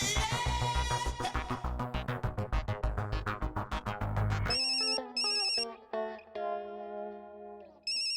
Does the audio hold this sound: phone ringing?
yes